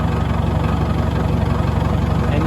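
Caterpillar 922 wheel loader engine idling steadily just after starting, a low, even diesel rumble with faint rhythmic knock, continuous and close with no pauses.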